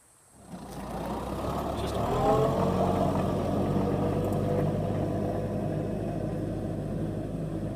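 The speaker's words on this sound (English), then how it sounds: "This is a 7-foot roller on the tractor." A tractor engine pulling a 7-foot roller over a food plot drones loudly after a quiet start, a low continuous rumble with a constant hum, holding level throughout with no voices.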